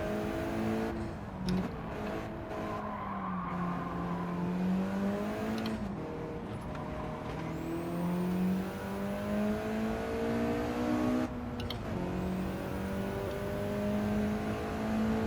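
A 1996 Mitsubishi Lancer Evolution IV GSR in Gran Turismo 7 drives the Nürburgring. Its engine drones steadily and rises and falls in pitch through gear changes and revs, loud and continuous from the driver's position.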